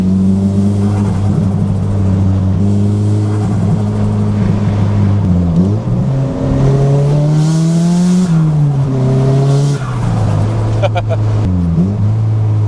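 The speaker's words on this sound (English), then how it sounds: "it's full popping and backfiring really loud" A Nissan Silvia S15 on a mountain drive revs hard and loud up close, its engine droning and rising through gear changes, with a few sharp pops and backfire crackles breaking through the steady roar.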